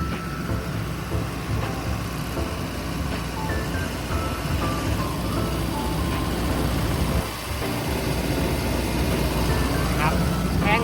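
A Mitsubishi D04EG turbo diesel engine in a 12-ton Kobelco SK135SR-3 excavator runs steadily nearby, a loud rumbling idle with a turbo whine, while someone talks over it.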